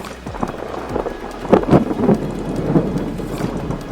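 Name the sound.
thunder during rain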